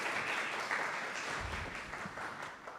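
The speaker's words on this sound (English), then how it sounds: "Give them a round of applause." Audience applause after a presentation at a science and religion talk, a steady dense wash of clapping at moderate distance throughout, without distinct individual claps.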